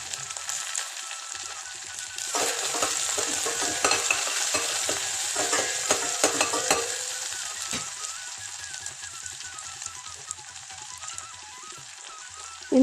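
Chopped onion and dried red chillies sauté in a pan, a soft background sizzle swelling into busier stirring and crackling in the middle stretch before settling back to a quieter, even fry, with no voices.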